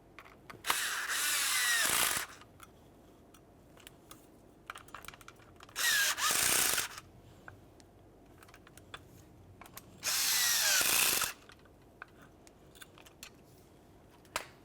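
A power tool snugs up bolts on a Chevrolet Trailblazer window regulator in three separate whirring bursts of one to two seconds each, nearby, with quiet clicks and handling noises between them.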